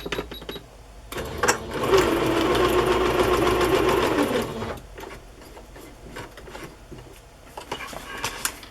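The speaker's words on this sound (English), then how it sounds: "I think I will sew across the bottom of the house to make it a little tuck spot too." Sewing machine stitching across muslin for a Halloween journal page, a close, steady mechanical whir running for about three seconds, with softer handling clatter before and after.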